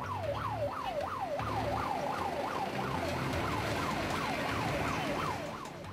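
A fire engine siren wails on an emergency call-out from a fire station in Gangnam, Seoul, sweeping steadily up and down in a fast, repeating yelp-like rise and fall, loud and close over a continuous rumble of engine and road noise.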